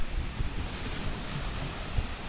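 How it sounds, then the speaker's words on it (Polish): Waves wash steadily on a seaside beach, with heavy wind buffeting a badly positioned microphone and occasional low thumps. "Chodźcie, pokażę Wam plażę."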